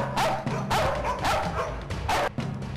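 Doberman pinscher guard dogs at a training kennel bark loudly in a rapid series of sharp, overlapping barks, some with whimpering yips between them.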